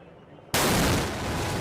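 A botched LAPD bomb detonation in a residential street goes off as one sudden, massive blast after a quiet moment, followed by a loud, roaring wash of noise that lingers.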